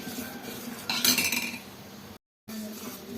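A spoon scrapes and clinks against a pot of boiling ragi porridge, a brief cluster of metallic stirring noises over a steady low simmer, cut by a short gap of silence.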